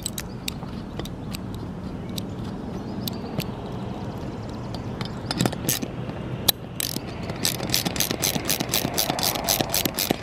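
A half-inch ratchet tightens lag screws on a rooftop antenna mount outdoors, with sparse clicking bursts at first that turn into a fast, steady run of loud, close ratchet clicks near the end.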